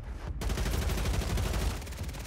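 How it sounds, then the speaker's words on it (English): Enemies open up with rapid automatic gunfire on Rebirth Island in Call of Duty Warzone, a loud, continuous stream of pulsing shots that starts abruptly and keeps going. "they are literally all just gonna shoot at me"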